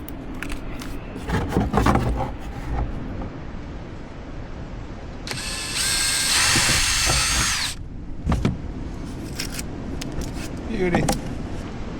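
A power drill bores holes while installing accessories on a Can-Am Defender utility vehicle. Scattered handling noises come first, then a steady whirring burst lasts a couple of seconds, followed by more clatter.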